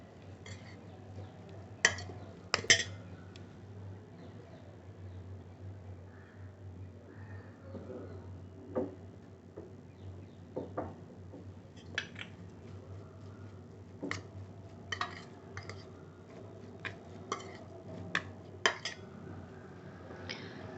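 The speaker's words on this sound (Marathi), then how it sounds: "एकत्र कालवून घ्यायचं. त्यानंतर चवीनुसार मी मीठ टाकते." Stirring raw mango chutney ingredients with salt in a bowl, giving sparse soft clinks and taps of a spoon against the bowl over a low steady hum, quiet and intermittent.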